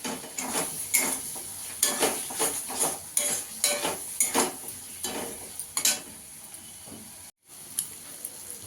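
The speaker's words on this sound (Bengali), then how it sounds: "আলুটা দিয়েও ভালো করে কষিয়ে নেব।" Masala and fried potatoes being stir-fried in a pan for an egg kofta curry: a rhythmic series of close, sharp spoon scrapes and clinks over a soft sizzle, with a brief dropout near the end.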